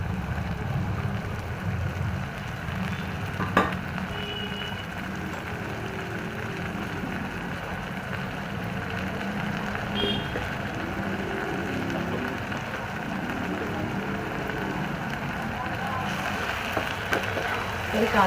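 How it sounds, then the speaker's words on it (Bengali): A paste of tomato, garlic, ginger and green chili fries in a pan, giving a steady, fairly faint hiss that runs unbroken throughout, with a few small clicks. "এই কাঁচা গন্ধ যাবার পর্যন্ত একটু ভালো করে কষে নেবো"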